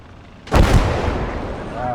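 A tank hitting a mine in a Second World War strategy video game: a sudden loud, booming explosion that rolls into a long rumbling decay with crackling debris, no speech over it.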